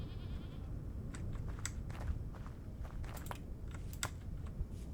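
Sheep bleats from Vintage Story, a farming survival game, sounding as short high calls repeated several times over a steady low background rumble, with faint clicks of typing mixed in.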